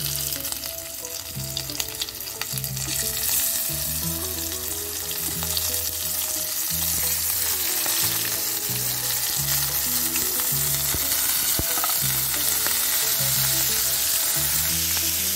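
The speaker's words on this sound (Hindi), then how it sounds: "तेल भलसे गरम हो जाए आम आधे कंकड़ा को पकई ना।" Crab pieces fry in hot oil for an Odisha-style Chilika crab curry, giving a loud, steady sizzle and crackle throughout with occasional stirring scrapes, and no voices.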